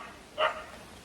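A single short dog bark in a garden, mid-distance and moderately loud over quiet outdoor background.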